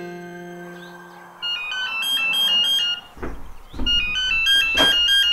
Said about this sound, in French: C'est par ce coup de téléphone d'Isabelle Mérigou à Lucette, la doyenne de la famille, que tout commença